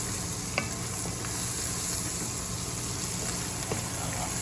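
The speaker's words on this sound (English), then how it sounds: "I can fry it nicely and it smells and it tastes better in the butter" Vegetables and rice frying in butter in a pan for fried rice, a loud, continuous dense sizzle that stays steady throughout with a couple of faint clicks.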